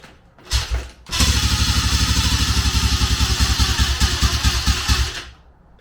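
A 2004 Honda CRF150F dirt bike engine, fitted with a worn oil pump gear with ground-down teeth, starts with a short burst and then runs loud and steady at close range with a fast, rough clattering pulse before cutting off.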